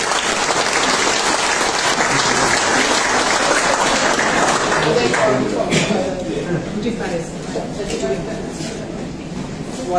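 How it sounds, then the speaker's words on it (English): A crowd at a sporting hall of fame ceremony applauds award recipients, loud continuous clapping that holds steady for about five seconds and then fades into a softer, lingering patter with murmuring voices. "So a round of applause for Cheryl Barry and Imogen Stokes."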